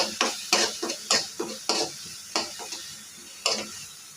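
Ginger garlic paste with onion and green chili frying in a pan and stirred, the spoon scraping in repeated sharp strokes over a soft, steady sizzle, close and alone.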